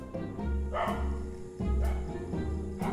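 A dog barking repeatedly in the horror video game Haunted Room 205, three sharp yapping barks at a steady pace over a low droning game ambience.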